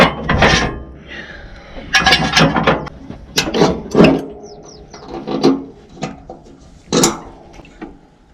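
Irrigation machinery on a potato field is put into gear, giving a series of close mechanical clunks, scrapes and ratcheting metal knocks in uneven bursts over faint background noise; no talking.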